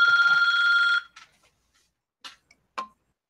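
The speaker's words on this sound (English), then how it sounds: "Hold on, I got to take this phone call." A telephone bell rings loudly for about a second, a steady bright electronic trill, then stops, followed by a few brief faint clicks and knocks in an otherwise quiet room.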